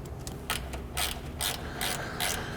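Ratchet tightening radiator fasteners on a 1998 Acura TL, a run of close rapid clicking bursts in an uneven back-and-forth rhythm.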